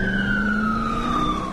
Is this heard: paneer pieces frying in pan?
no